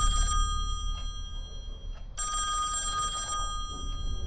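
An old-style telephone bell rings loudly in two bursts over a low ambient drone in the horror game Song of Horror.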